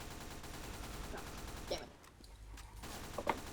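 Rapid bursts of gunfire in the game Team Fortress 2, crackling over a dense background of game noise with a couple of sharper shots standing out, all fairly quiet and continuous.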